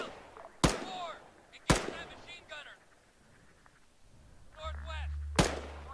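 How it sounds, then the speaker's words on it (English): Sharp gunshots in the military video game Arma 3, three loud single cracks spaced about a second or more apart, each followed by brief echo, with engine hum and faint voices between them. "Bad people ahead. Shoot the bad person."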